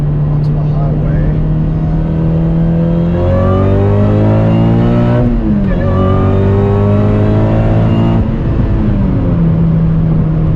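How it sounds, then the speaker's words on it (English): A 9th-generation Honda Civic Si pulls hard in third gear onto a highway, its engine note climbing steadily in pitch through a loud, sustained rev before easing off, heard from inside the car with continuous cabin drone. "Let's see if I can do a quick 3rd gear pull onto the highway."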